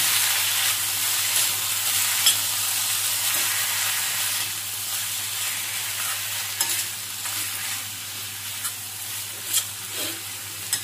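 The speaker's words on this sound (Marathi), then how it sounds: "टोमॅटो चांगला नरम होईपर्यंत परतून घेऊया" Tomatoes sautéing in a pan for paneer bhurji, a loud, continuous hissing sizzle with a low steady hum beneath and occasional scraping stirs toward the end, close up with no voices.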